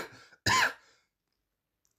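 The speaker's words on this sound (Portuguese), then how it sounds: "Desculpa aí a tosse, galera" A single harsh cough, loud and close, followed by silence; a brief stretch of voice precedes it.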